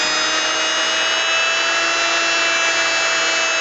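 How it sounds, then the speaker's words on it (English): A handheld hobby drill slowly shaves a small U-shaped notch into windscreen foam for a Sony ECM-CS3 microphone, giving a steady, close, high-pitched motor whine with no break for the whole stretch. "And I'm just going to take my hobby drill again."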